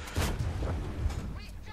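Tank gun fire in World of Tanks, with the Caernarvon tank in play: a couple of deep booming shots with rumbling tails, heard under someone talking.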